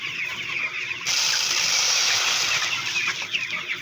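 Free-range chickens cluck and stir as feed is scattered among them, a busy nearby flock over a constant hiss, with no talking.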